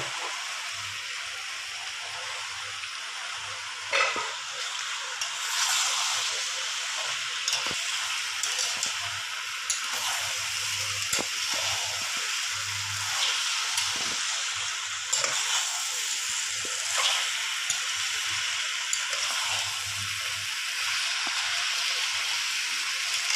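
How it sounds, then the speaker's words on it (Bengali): Potatoes, pointed gourd and soybean chunks frying in spices, a steady, continuous sizzle with occasional stirring scrapes, close and even throughout. "এবার আমি সব রকম ভাজা আলু, ভাজা সয়াবিন আর ভাজা পটল দিয়ে কষিয়ে নেব"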